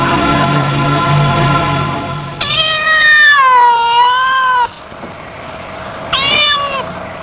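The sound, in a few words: cat meowing, black cat crossing the road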